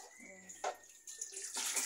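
Water for a bath splashes and pours in bursts, with a few faint voices murmuring between the gushes.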